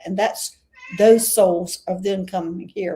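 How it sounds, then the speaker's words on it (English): A pet cat named Dirty Harriet meows indoors, a few short calls mixed in with a woman's steady speech close by. "Sorry, that's my cat"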